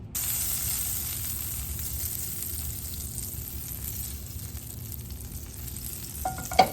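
Butter sizzles steadily in a hot skillet, a continuous close frying hiss with no pauses, joined near the end by a brief clink or scrape.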